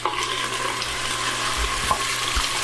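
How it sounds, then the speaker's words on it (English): Onions and garlic browning in a pan while a pot of water heats nearby for caldo verde, giving a steady soft sizzle with faint clinks of stirring and no talk. "while we are browning our onions and our garlic."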